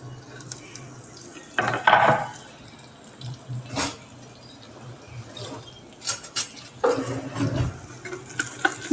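Garlic and cumin seeds fry in hot oil in a pan on an induction stove, with a steady low sizzle broken by louder bursts of stirring and clattering utensil scrapes.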